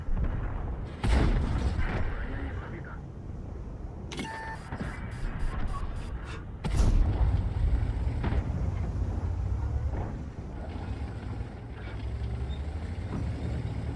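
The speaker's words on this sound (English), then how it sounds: "Jagdpanzer is firing heat" Jagdpanzer tank in World of Tanks firing HEAT rounds: a few loud booming cannon shots stand out against continuous rumbling battle noise, with a burst of rapid repeated clatter in between.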